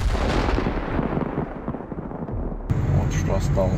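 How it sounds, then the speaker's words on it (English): A HIMARS rocket strike on a lead vehicle followed by cluster munition blasts: a loud, dense roar of explosions rolling continuously, then a sharp new burst of crackling detonations near the end. "The rocket hits the lead vehicle again, and immediately after that, a cluster munition arrives."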